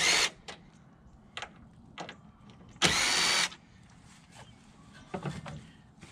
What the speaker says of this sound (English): I'm just going to use this drill here